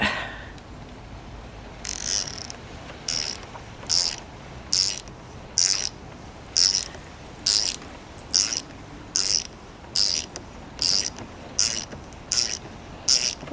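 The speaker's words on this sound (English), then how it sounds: "So I got my ratchet here" A ratchet works loose the crank bolt on a Specialized Levo SL e-bike in a dozen evenly spaced, crisp clicking bursts, close and clear with no talk.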